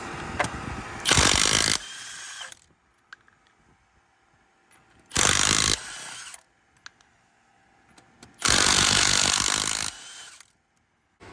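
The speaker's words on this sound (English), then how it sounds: "using a 22 millimeter socket, remove these lug nuts" A power tool with a 22 mm socket spins lug nuts off a 2014 Ram 1500 truck in three loud, separate bursts of about a second or two each, with quiet gaps between them.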